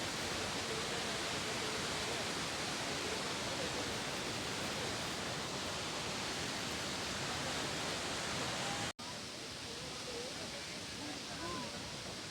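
Akasa Ganga waterfall at Tirumala roars as a loud, dense, unbroken rush of falling water that fills everything, cutting out for an instant near the end before continuing.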